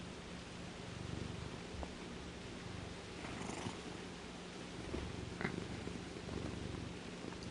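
Luna the cat purrs steadily and softly up close, a continuous low rumbling over a hiss of background noise, with faint rustles and no talk.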